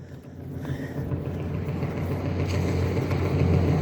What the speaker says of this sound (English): this car sounds like it's not doing well